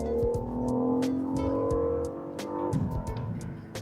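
A BMW M760i with a V12 engine and ZF eight-speed automatic pulls hard, its steady engine note rising under load and holding loud and close, then shifting tone partway through, with no talking over it.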